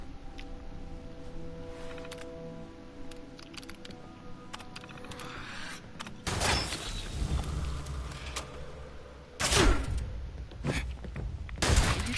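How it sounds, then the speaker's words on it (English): Gunfire in the video game Fallout 76: after a stretch of quiet ambience, loud broadband shot bursts erupt in three clusters, the last two sharp and forceful, close to the listener. "Who's shooting at me?"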